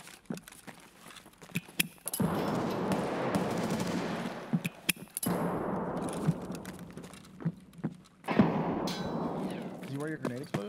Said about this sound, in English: toss a nade where I think he is